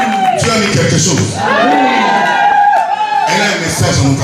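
A crowd at a Christian gathering in Paris cheering and acclaiming, loud continuous shouts, whoops and yells from many voices close together.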